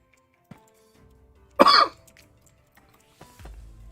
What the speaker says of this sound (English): I just can't shake that last little remnants of the cough from my sinus infection that I had.